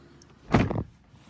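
A single muffled thunk of a McLaren 720S door shutting, short and fairly close, in a quiet Alcantara-trimmed interior.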